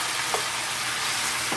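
Liver stew ingredients sizzle steadily in a well-heated pot for a Jamaican stew liver, a dense continuous fry hiss that stays loud and close, with no voices.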